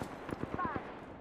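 Rapid gunfire in a battle royale video game, a short burst of several sharp shots under a faint in-game voice.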